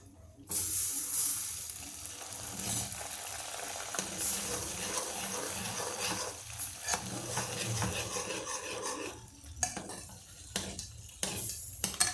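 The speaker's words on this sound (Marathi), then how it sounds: "आता यात पाण्याचा शिपका द्यायचा" Water sprinkled into hot ghee in a pan bursts into loud sizzling that gradually settles, with occasional scraping of a spoon against the pan.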